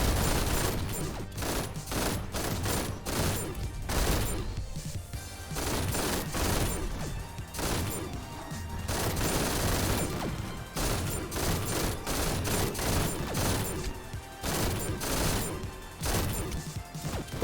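The Thunderlust gun in the shooter GTTOD fires in rapid, relentless bursts, a dense barrage of loud blasts and crashing impacts that barely pauses across the whole stretch.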